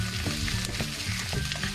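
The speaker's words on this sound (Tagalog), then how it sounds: "So, umpisahan na nating igisa. Maglalagay na tayo ng guys, mantika, sibuyas, at isunod na rin natin tong bawang." Onion and garlic sauté in hot cooking oil, a loud, steady close-up sizzle with light crackles and faint stirring pulses running throughout.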